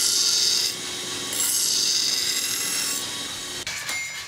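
A swordsmith's apprentice sharpens a knife, steady rasping strokes of steel on stone running continuously and close, with a brief pause near the end, no talking.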